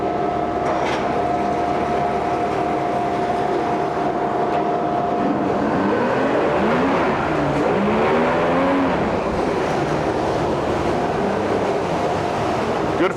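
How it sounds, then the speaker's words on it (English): A loud fan runs on a 1999 Mercury 75hp tiller outboard boat motor, a steady broadband roar filling the whole stretch with shifting whirring tones, continuous and close. "Shut that fan off."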